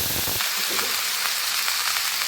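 Cauliflower florets and potatoes hit hot oil tempered with bay leaf and whole spices for a Bengali prawn curry, giving a loud, steady, dense sizzle throughout with faint stirring.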